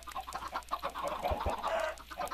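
Chickens cluck in a block-building survival game, a busy run of short clucks and squawks at close range, steady and fairly loud with no voices over them.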